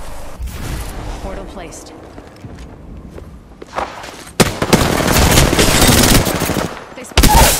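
Gunfire in Apex Legends bursts out loud, with rapid automatic shots and a heavy volley in the second half over scattered footsteps, and a player's voice talks briefly near the start.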